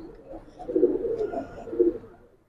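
A pair of Giribaj pigeons, a matched male and female, coo in low, throaty rolls close by, two fuller swells rising over a soft murmuring background, with no talking.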